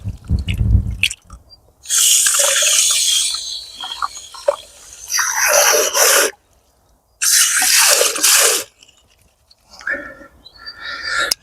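Hands rinsed under running water from a garden hose pipe, a loud steady gush in several bursts with short pauses between them, close to the microphone.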